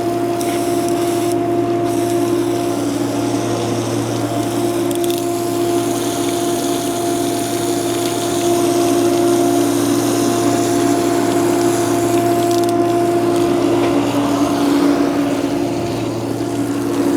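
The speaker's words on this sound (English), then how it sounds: "all I'm gonna do is get the condenser really wet with the hot water now, and then I'll apply coil cleaner" Hot water from a hose sprays steadily onto a restaurant kitchen air-conditioning condenser coil, a loud continuous hiss and gush over a constant mechanical hum from nearby equipment, with no talking.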